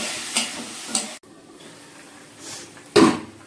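Potatoes cooking down with spices in a pan: a few short, uneven bursts of scraping and stirring over a faint sizzle, ending with one louder clatter.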